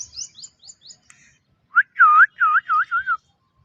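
Close and loud, a pet parrot whistles on command: a quick series of short chirpy notes, then a brief pause and several longer looping whistles in a steady rhythm.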